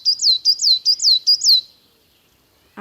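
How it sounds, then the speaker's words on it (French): A recorded songbird gives six quick, bright, sweeping chirps in an even rhythm, clear and close, followed by near silence. "vous connaissez le chant des oiseaux"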